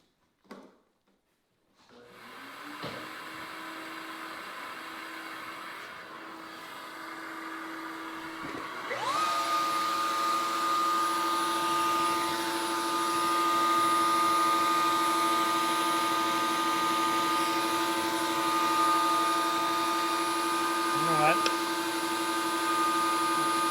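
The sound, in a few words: shop vacuum cleaner running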